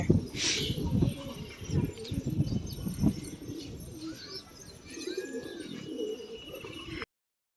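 Several pigeons coo in low, throaty bursts close by as they move about scattered feed, overlapping irregularly, with occasional chirps and a brief flutter of wings.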